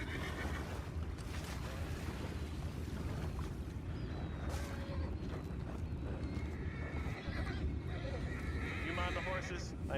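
Horses whinny and hooves clip-clop in Red Dead Redemption 2, a low, busy mix of hoofbeats and distant neighs under constant ambient noise and game chatter.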